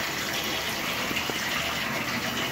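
Water gushes steadily into a bathtub while it fills for a dog's bath, a constant full rushing stream close by with no voices.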